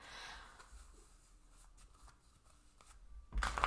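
A deck of tarot cards being shuffled by hand, with soft papery riffles and flicks throughout, quiet and close, ending in a louder burst of handling.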